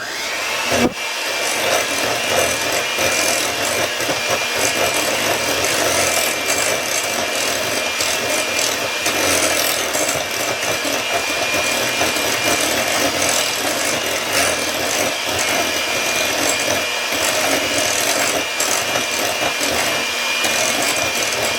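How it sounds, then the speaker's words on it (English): Large egg being mixed into cherry muffin batter, a steady, loud scraping and whisking rub against the bowl that continues without pause and with no talk. "and we're going to mix that up really good."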